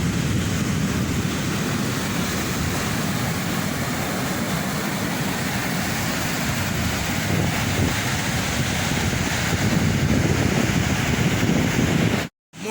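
Rough winter sea pounds the shore in a constant, loud roar of crashing surf mixed with heavy wind buffeting the microphone, cutting off abruptly at the end.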